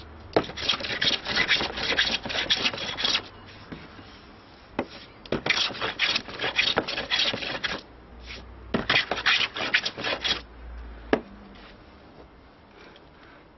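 A freshly sharpened blade shaving wood for an Anglo-Saxon lyre: several bursts of dry rasping strokes, each lasting a second or more, separated by short pauses, close up and with no talking.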